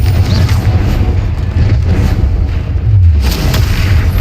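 A Confringo blasting spell explodes in the video game Hogwarts Legacy, a loud booming blast with heavy low rumble that carries through the whole moment, swelling again near the end.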